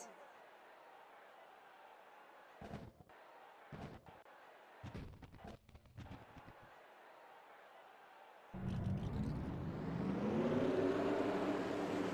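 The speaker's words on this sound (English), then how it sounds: "Drivers, start your engines!" Race car engines starting before the Busch Clash at Daytona in a racing video game: several sharp thumps first, then a sudden loud engine roar that rises and holds steady to the end.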